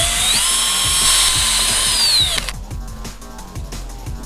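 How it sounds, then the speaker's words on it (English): Power drill boring a hole in metal for a garage light support mount, a loud high whine for about two seconds that drops off, followed by rhythmic ratcheting clicks as it slows. "Drill hole."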